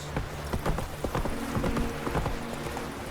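Roach the horse galloping in The Witcher 3, a steady run of hoofbeats with a low rumbling pulse under quiet background game ambience.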